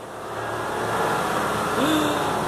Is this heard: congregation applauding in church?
no